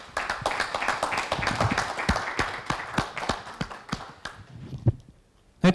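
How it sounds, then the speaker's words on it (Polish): A small audience at a farewell event for Sebastian Mila claps in a loose, uneven burst of distinct close hand claps that thins out and fades to near silence toward the end. "brawa się należą zdecydowanie"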